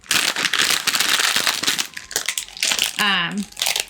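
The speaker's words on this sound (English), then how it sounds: "I bet this bag is really crinkly." A crinkly plastic candy bag being handled, loud crackling and crumpling bursts close up, with a high squeaky voice briefly over the noise.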